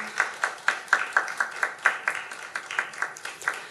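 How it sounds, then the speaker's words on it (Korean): Steady, evenly spaced hand claps from a church congregation at a Sunday worship service greeting visiting believers from fourteen countries, about fifteen sharp claps in a regular rhythm, moderately close and fairly quiet. "자리에서 일어나실 때 따뜻한 박수로 환영해 주시기 바랍니다"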